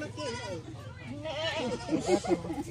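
Goats bleat in a mountain farm setting while being herded, several wavering calls rising near the end, mixed with people talking over them.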